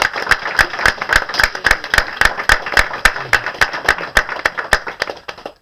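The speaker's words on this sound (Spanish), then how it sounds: "Aplauda esta mañana, por favor." A church congregation claps in unison during a morning service, sharp evenly spaced beats in a steady rhythm, close and crisp, with a faint voice briefly underneath.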